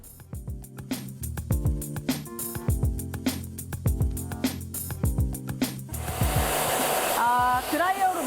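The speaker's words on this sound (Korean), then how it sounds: "많이 뿌려준 다음에 드라이기로 말려주시면 돼요." A hair dryer blows on hair just sprayed with keratin protein treatment. After about six seconds of speaking, a steady, fairly loud rushing whoosh starts and continues to the end, with a voice over it.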